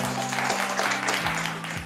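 An audience applauds a team during a singing game at a Christmas special family show, a brisk burst of clapping under a sustained musical chord with a descending tone, fairly close.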